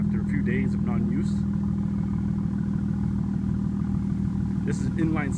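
A 2017 BMW 340i xDrive's inline-six twin-turbo engine idles with a smooth, continuous low hum, and a voice speaks over it at the beginning and again toward the end.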